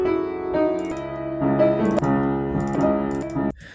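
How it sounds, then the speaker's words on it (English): Slightly out-of-tune acoustic upright piano at a grandparents' home, played freely as an improvisation: clear chords and single notes struck in an uneven rhythm, ringing close and fairly loud, ending with a brief noise. "just me playing my grandparents' upright piano, because I don't have an acoustic piano at home. It's also kind of out of tune."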